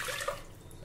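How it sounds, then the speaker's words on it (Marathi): Water poured into a pressure cooker holding washed toor dal gives a short, soft splashing pour that fades quickly, faint and close. "डाळ धुवून झाली, आता यामध्ये आपण पाणी घालूया।"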